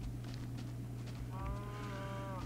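A cow in a crafting video game gives one drawn-out moo partway through over a steady low hum, fairly quiet and alone.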